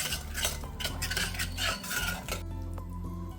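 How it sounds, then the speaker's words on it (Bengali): A spoon scrapes and stirs spices into yogurt in a pan over low heat, a series of close, rhythmic scraping strokes with faint clinks against the metal, no talking. "টক দইয়ের সাথে আমি মশলাটাকে খুব ভালোভাবে মিশিয়ে"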